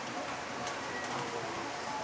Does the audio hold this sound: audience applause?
no